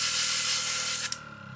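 Airbrush spraying paint onto the backs of bicycle sprockets, fed by a Gaahleri Serenair compressor: a steady, close broadband hiss that cuts off abruptly near the end, leaving a quieter compressor hum.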